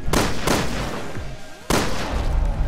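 Sharp gunshots from Resident Evil Revelations 2 Raid mode: two quick blasts, a brief pause, then a third loud shot, each close and punchy, with no talk.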